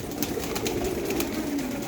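Pigeons coo in a small home-built 8 by 7 foot pen, soft repeated throaty calls layered over one another, fairly close, against a continuous low background murmur.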